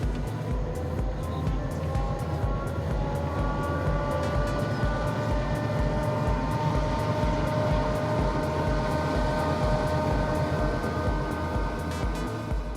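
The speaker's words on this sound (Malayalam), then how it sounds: "ദേ വരുന്നു അടുത്ത ട്രെയിൻ" A train approaches on a railway line in Sri Lanka near a stone and cement bridge built by the British, its steady rumble and rhythmic clatter continuous and fairly loud, with a faint horn-like tone held above, and no talking.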